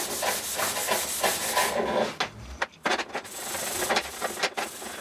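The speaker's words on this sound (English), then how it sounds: "Bit of WD-40 and a Scotch-Brite, and get all that corrosion and age and" A Scotch-Brite pad with WD-40 scrubs corrosion off a motorcycle rear wheel bearing part on a Busa build, a continuous, close, rhythmic abrasive rubbing with quick back-and-forth strokes and a few brief pauses.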